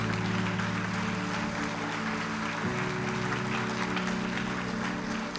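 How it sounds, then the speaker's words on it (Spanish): A church congregation applauds during a Spanish-language sermon, a steady broad wash of clapping with a sustained musical keyboard tone underneath that shifts chord partway through. "dale un fuerte aplauso al Señor"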